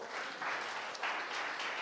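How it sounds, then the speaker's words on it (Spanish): A church congregation gives a short burst of applause, a steady, even wash of clapping that fills the room for under two seconds with no speech over it. "Un aplauso para ellos,"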